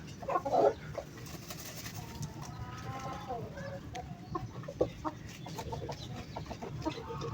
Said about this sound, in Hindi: ये सारे मुर्गियाँ जो हैं वो मट्टी में खेल रहे हैं।